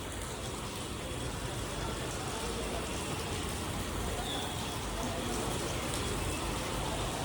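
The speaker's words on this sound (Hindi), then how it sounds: "अब देखो आप क्या मस्त बारिश हो रही है" Heavy rain pours down steadily in Haridwar during the Kanwar Yatra, a dense, even hiss that stays constant and close for the whole stretch.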